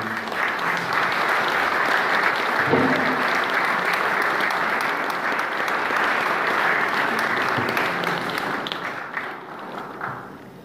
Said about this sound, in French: Je pense que vous pouvez réserver vos applaudissements à Bruno.